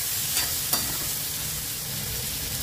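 Chopped watermelon rind vegetables fry in a hot pan with a steady sizzle, and a couple of sharp stirring scrapes come early on; no one speaks.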